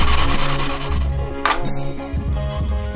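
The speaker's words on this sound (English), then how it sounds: "one of the first steps is to sand the affected area" Sanding a repair area on a paramotor frame, a loud close rasping rub with rhythmic back-and-forth strokes and no talk over it.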